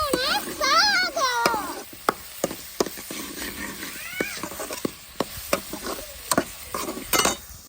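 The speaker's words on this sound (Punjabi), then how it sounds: "ਹੁਣ ਆਪਾਂ ਪਿਆਜ਼ ਨੂੰ ਕਰਾਂਗੇ ਬਰਾਊਨ" Onions browning in oil in a pan on a chulha stove, a soft sizzle under sharp scraping stirs and clanks, while a cat meows loudly several times near the start and again later.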